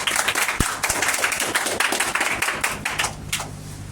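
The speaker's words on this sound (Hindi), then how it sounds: "एक बार जोरदार ताली।" Audience clapping at a talk, a dense patter of hand claps from a seated crowd sustained for a few seconds at moderate level, with a few sharper nearby claps standing out.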